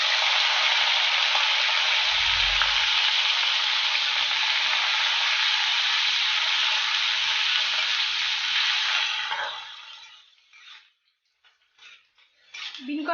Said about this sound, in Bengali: বিন কড়াইটা ভাজতে একটু টাইম লাগবে, বিন কড়াইটা ভালোভাবে ভেজে নেব।